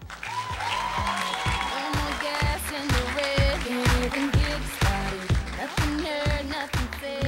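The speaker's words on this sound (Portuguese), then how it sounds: "vamos convidar, com uma grande salva de palmas" A studio audience claps to welcome a journalist onto a talk show set, a sustained round of applause with rhythmic music pulsing underneath, steady and fairly loud for several seconds.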